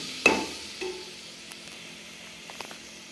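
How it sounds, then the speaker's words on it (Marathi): Garam masala and vegetables for paneer pulao sizzling and being stirred in oil over low heat: a soft, continuous hiss with one scrape at the start and a few light clinks of the spoon. "मी गरम मसाला टाकला हे बघा. मसाला टाकताना हा गॅस पूर्ण बारीक करायचा."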